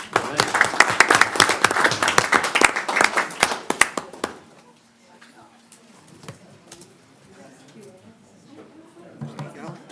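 Lively clapping from a school board meeting audience, many hands at close range for about four seconds, then stopping abruptly; quiet room sounds follow with scattered faint noises and a voice returning near the end.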